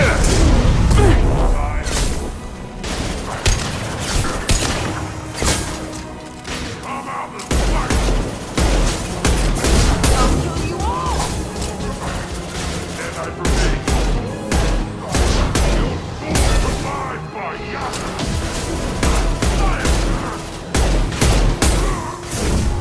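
Sustained gunfire from the video game Mass Effect 2 booms and crackles loudly and almost without pause, layered with heavy impacts and thuds; voices occasionally break through the battle din.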